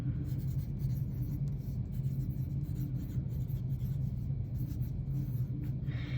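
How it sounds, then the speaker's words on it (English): A pencil writes and sketches on paper in a classroom drawing lesson, a steady close scratching rasp that continues without pause, with no talking. "make sure that you write your class code on the back of your paper with a pencil"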